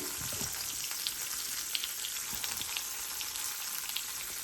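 Bread dipped in milk and egg fries in melted butter in a pan, giving a steady close sizzle with faint crackles and spits throughout and no talking.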